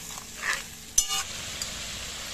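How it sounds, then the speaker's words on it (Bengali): Spice paste for a rohu fish curry with okra is slowly sautéed in a pan with a splash of hot water, giving a faint, soft sizzle broken by a brief clack of a spoon against the pan. "এইভাবে আস্তে আস্তে যদি মশলা কষানো হয়, মশলার স্বাদটা খুব ভালো হয়"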